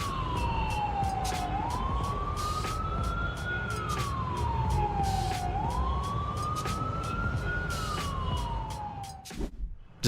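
A police car siren wails in long rising and falling sweeps, loud and steady, over faint road traffic, then cuts off abruptly near the end.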